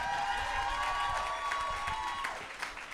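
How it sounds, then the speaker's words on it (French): A live podcast audience applauds the studio staff, with moderate crowd clapping and faint cheering heard at a distance under a steady tonal hum, fading slightly toward the end. "On peut les applaudir."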